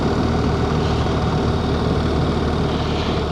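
A BMW R1300 GS motorcycle idles steadily at a standstill on a snowy countryside ride, its low engine rumble loud and even throughout, with no talking.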